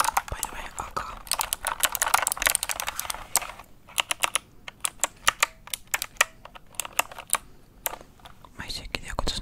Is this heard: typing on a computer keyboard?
yes